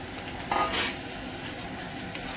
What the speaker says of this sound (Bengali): এই দেখো মশলাটা কষানোর পরে এখন আমি সোয়াবিনটার মধ্যে ঢেলে দেবো